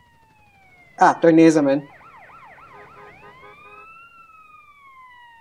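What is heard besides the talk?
ambulance siren in video game GTA San Andreas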